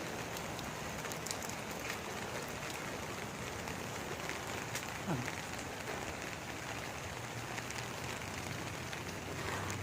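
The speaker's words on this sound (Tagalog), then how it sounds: "Biglang lumakas yung ulan mga kamamshi." Steady heavy rain patters on surfaces behind a house, a dense continuous hiss with scattered drips, no voices.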